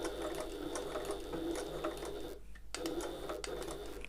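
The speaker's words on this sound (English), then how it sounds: "I'm going to stop with my needle down, lift my presser foot and pivot, and sew across that line" A sewing machine stitches across a marked line on an open-top tote, running steadily up close with a short pause near the middle before carrying on.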